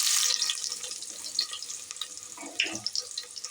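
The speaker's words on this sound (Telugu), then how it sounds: "ఆయిల్ వేడైంది. ఇప్పుడు ముందుగా మనం పచ్చిమిర్చి," Green chillies hitting hot oil, a bright burst of sizzling at the start that fades into a lighter crackle with a few pops, close and alone without talk.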